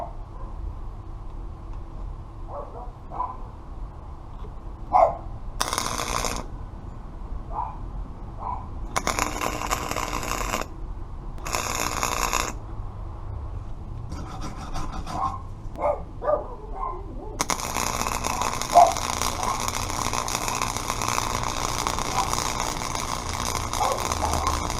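Flux core arc welding on a beveled 1/8-inch steel joint with a Harbor Freight Flux Core MIG 125 welder: short crackling bursts start and stop, then a steady, loud sputtering arc runs through the final stretch.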